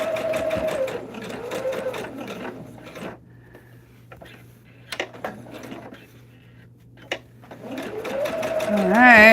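A sewing machine runs in bursts while the sides of a storm-at-sea throw quilt are tacked down. It whirs steadily at the start and end, with quieter clicks and handling noises in the middle.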